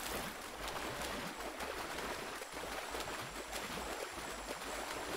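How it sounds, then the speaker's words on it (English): Rushing water from waterfalls surrounds a swimmer in the video game Shadow of the Tomb Raider, a steady, faint, even roar that carries on throughout. "More waterfalls."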